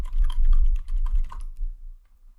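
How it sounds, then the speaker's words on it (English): Fast typing on a computer keyboard, a quick run of close clicky keystrokes for about a second and a half, then silence. "or maybe they are opening a text editor and typing something"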